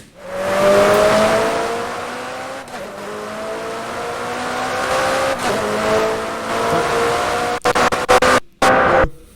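A McLaren's engine in the racing game Need for Speed: Hot Pursuit, a loud close roar rising through gears with falling pitch at each shift, then ending in abrupt choppy cuts and bursts near the end.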